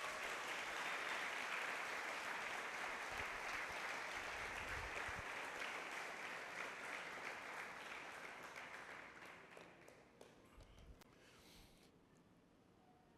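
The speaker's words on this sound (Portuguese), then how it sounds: "Dá um aplauso ao Senhor Jesus." A church congregation applauds during a service, a long wash of clapping that holds steady for several seconds, then gradually dies away into scattered claps and quiet.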